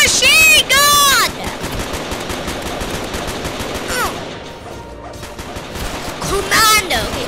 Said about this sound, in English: Literally, defeat them with my machine gun!